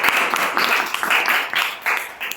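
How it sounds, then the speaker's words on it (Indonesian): People clap together at a student podcast session, a short round of brisk applause with uneven bursts and pulses, fairly close and unaccompanied by talk. "Tepuk tangan dulu dong"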